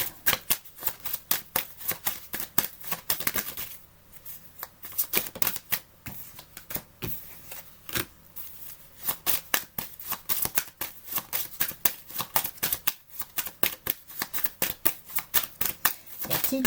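Tarot or oracle cards shuffled by hand during a card reading, rapid repeated riffling and slapping bursts, close and loud, continuing in uneven waves with brief pauses.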